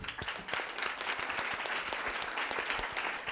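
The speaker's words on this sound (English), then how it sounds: "Big round of applause, please, for Maria." Audience applause for a panellist at a veganism-in-the-media panel at VegfestUK Brighton, a steady dense patter of many hands sustained throughout at moderate level.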